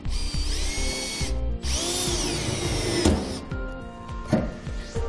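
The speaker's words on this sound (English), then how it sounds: "Now we can drill out our holes." A power drill bores pilot holes in metal while a B&W Companion fifth-wheel hitch goes onto a 2018 Ram 2500. The motor whines loud and close in long bursts, with a brief pause and then shorter revving spurts, and no talking.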